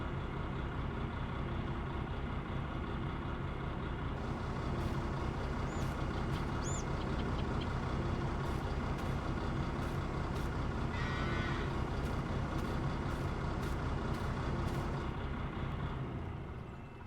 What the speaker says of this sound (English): And we have the new tractor back at our farm, so it's Fendt Vario Favorite 920, and it's 205 horsepower